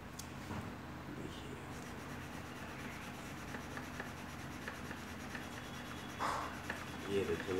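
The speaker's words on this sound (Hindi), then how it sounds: "ये देखिए मैं चंदन घिसा है" Sandalwood being rubbed against a stone slab to make a thick paste, a steady low scraping and rubbing that continues without pause, fairly faint and close.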